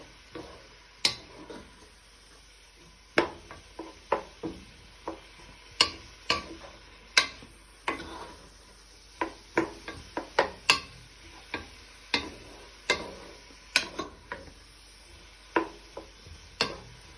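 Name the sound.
stirring prawns and vegetables in a pan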